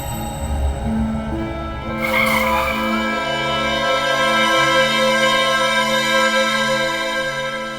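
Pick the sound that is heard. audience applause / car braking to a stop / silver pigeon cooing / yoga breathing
car braking to a stop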